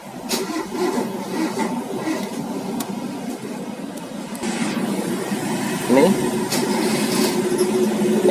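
An engine with a starting fault, hard to start and needing the throttle pumped before it catches, runs with a rough, steady mechanical drone and a brief rise near the end, with a voice mixed in.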